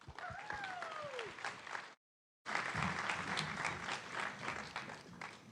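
An audience applauds as presenters walk onstage at a university open day theatre event, with a steady wash of clapping that breaks off briefly and then resumes full and close.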